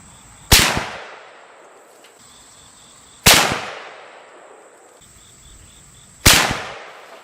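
A cheap rifle chambered in 7mm Magnum fires three loud, sharp shots a few seconds apart, each with a quickly decaying outdoor echo tail.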